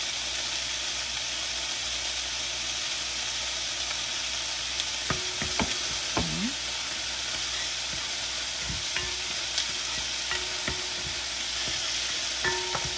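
Onion frying in a pan gives off a steady, soft sizzle, with occasional sharp clicks and scrapes of a utensil stirring it, close by and with no talking.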